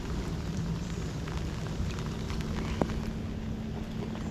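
Heavy jungle rain pours in a steady dense patter, close and constant, with a faint low rumble beneath and no voices.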